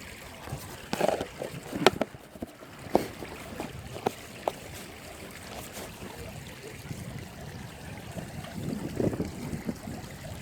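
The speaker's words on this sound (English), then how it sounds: "Really windy today, so I do apologise for the wind." Strong gusty wind buffets a microphone on a riverbank during a chub and dace fishing trip in Nottingham, a continuous rumbling roar with several sharp gust bursts and knocks, no talking.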